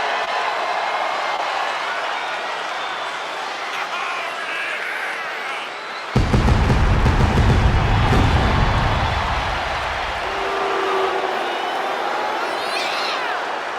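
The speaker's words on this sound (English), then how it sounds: "The crowd is on its feet." A roaring crowd in the WWE 2K26 wrestling game's MyRise mode fills the arena with a steady din, swelling into a louder, deeper surge midway before settling back.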